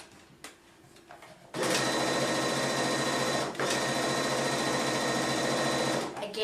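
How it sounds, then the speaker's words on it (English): A sewing machine stitches a quilt seam, starting after a few quiet handling sounds and running at a fast, steady whir for about five seconds with one brief dip, close and loud. "we can sew down this side, taking the pins out as we go"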